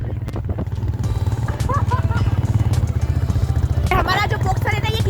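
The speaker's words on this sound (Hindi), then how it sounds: "देखो अभी मैं पापा का बॉक्सर बाइक पे जा रही है" Close motorcycle engine sound from a Bajaj Boxer being ridden, a steady low rumble throughout, with voices talking over the ride and a brief clatter near the end.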